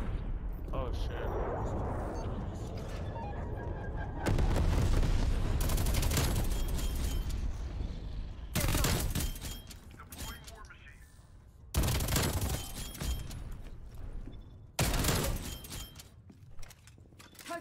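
War Machine grenade launcher fire in Black Ops Cold War, a chaotic run of loud, repeated blasts and explosions in heavy gunfight bursts, with players talking over the din throughout.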